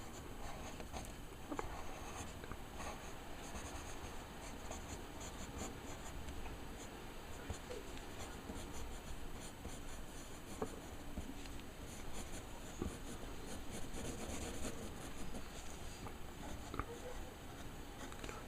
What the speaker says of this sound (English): So we nearly finished the pencil sketch.